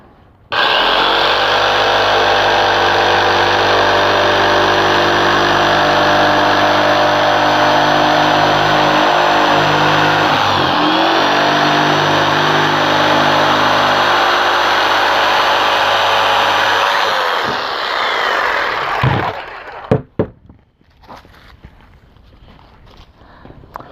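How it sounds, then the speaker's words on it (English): A jigsaw cuts curves in a LifeProof vinyl plank, a loud close buzzing reciprocating drone running steadily for about eighteen seconds before winding down, followed by a few clattering knocks and handling sounds. "So I'll show you how it is with a jigsaw. And I'll cut some curves too."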